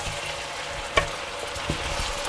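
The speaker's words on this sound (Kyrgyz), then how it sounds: "Пиязды коштук, дагы кууруп, дагы мына чыгып турат." Chopped onions fry in a pan with a steady, even sizzle, close and moderately loud, broken by a single sharp clink partway through.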